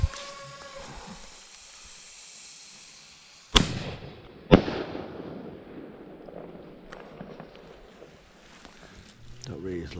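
A Loud and Pretty consumer firework set off outdoors on land before Bonfire Night, with a hiss followed by two sharp, loud bangs in quick succession and crackling fading into quiet.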